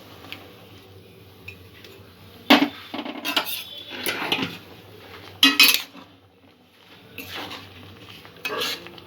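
Rice flour goes into hot water in a cooking pot while a utensil scrapes and clinks against the pot, coming as several close, irregular bursts of stirring and metal taps with no talking.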